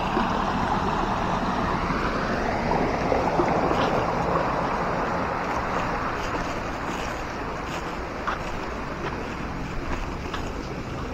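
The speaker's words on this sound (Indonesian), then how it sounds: "ini ada sungai di sini" Steady broadband rush of a river flowing near a temple bathing place with sacred water spouts, loud and continuous, mixed with wind buffeting the microphone.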